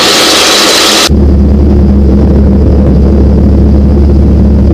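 A Holmes Falcon LS light aircraft engine drones loudly and steadily inside the cabin in flight with a low humming tone, after a short burst of hiss at the start.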